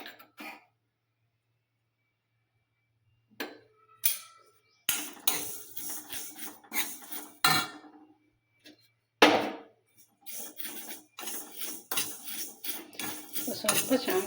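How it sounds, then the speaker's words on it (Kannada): Vermicelli roasting in ghee in a pan on a gas stove, stirred: close, uneven bursts of metal scraping and clinking against the pan, separated by short pauses, with no talking. "ತುಪ್ಪ ಹಾಕ್ಕೊಂಡು ಶಾವಿಗೆ ಹುರೈತೆ ನೋಡ್ರಿ"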